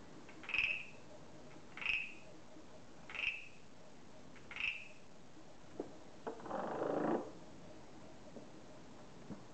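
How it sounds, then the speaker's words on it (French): Frogs croak outdoors in the evening, with four evenly spaced, fairly faint calls followed by a short burst of rougher noise and then quiet. "avec le chant des grenouilles"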